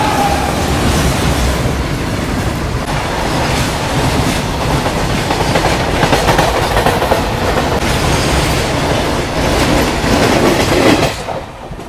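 The 15128 Kashi Vishwanath Express runs along a single-line branch section in India, giving a loud, continuous rumble with rhythmic clickety-clack from the wheels that fades slightly at the end.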